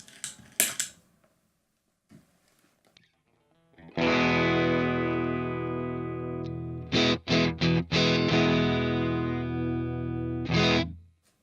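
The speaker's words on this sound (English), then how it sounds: "So that's the clean tone neck pickup." A few quiet plucked notes, then a sustained chord rings out on a Stratocaster electric guitar on its neck pickup with a warm, round clean tone, followed by short strummed stabs.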